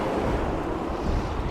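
Steady wind roars across the microphone on a coastal shoot, with waves and surf washing continuously underneath, loud and unbroken throughout.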